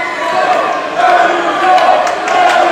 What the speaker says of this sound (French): La foule qui réencourage Emilio qui reprend de l'énergie.